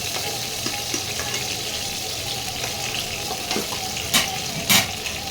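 Bori, lentil dumplings, fry in oil in a kitchen pan, giving a steady close sizzle with soft stirring scrapes and two brief louder crackling bursts near the end; no one speaks.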